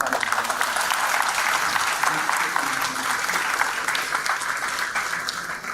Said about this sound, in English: I think this deserves a huge round of applause.